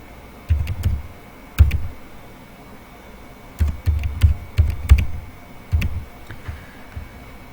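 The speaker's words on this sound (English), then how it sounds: "just type that same thing, whatever it is written in your passport" Fingers tap on a computer keyboard in short clusters of keystrokes separated by pauses, close and moderately loud in an otherwise quiet room.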